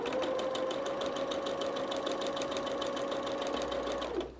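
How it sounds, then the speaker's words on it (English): Sewing machine stitching quilt block pieces, a steady rapid mechanical whir with a fine rhythmic ticking, running continuously at moderate volume before stopping abruptly near the end. "I'm going to sew them here."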